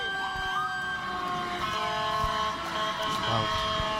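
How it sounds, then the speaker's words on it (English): River Grove Police Department sirens wailing at a city parade, several tones layered and sustained over steady street crowd noise, fairly loud and continuous. "all of the sirens that are going on right here from the River Grove Police Department"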